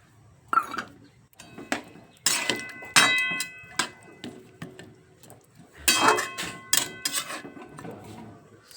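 While a sour mango dish cooks on the stove, a pot lid and metal utensils clink and clatter in a string of sharp, close, irregular knocks separated by short pauses.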